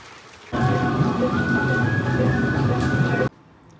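Heavy rain falls steadily and loudly for nearly three seconds, a dense hiss that starts and stops abruptly, with no voices heard.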